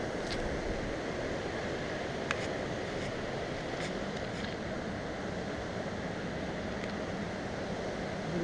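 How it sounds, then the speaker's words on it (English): Fast-flowing high water of the Flint River in Concord, Georgia, a steady broadband rush filling the whole stretch with a few faint clicks and light rain, no talk. "Water's really fast and, you know, flowing."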